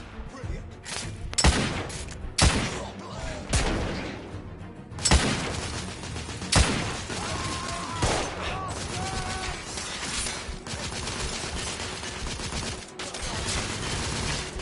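Machine gun fire bursts in The Order: 1886, loud repeated volleys and thuds over game music and effects, with a voice talking through parts of it.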